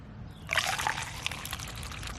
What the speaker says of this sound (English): So I'm gonna just pour this.